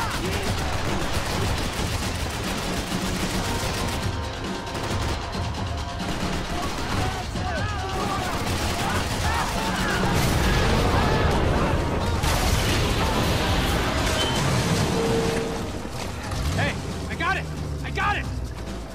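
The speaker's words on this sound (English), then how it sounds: "I can't concentrate with bullets whizzing past my head" Dense gunfire from the video game Max Payne 3, with rapid bursts and bullets whizzing past, continuous and loud throughout, with characters' voices talking over the shooting.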